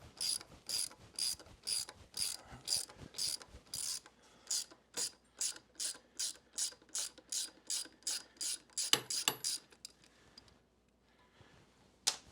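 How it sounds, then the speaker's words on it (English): A ratchet fitted with a 3/16 Allen socket works a bolt loose on a Harley-Davidson Sportster during neutral switch replacement, producing rapid, evenly spaced clicking bursts up close that slow and stop near the end, with no talking. "find your 3/16 Allen socket. Break this bolt free, take it off."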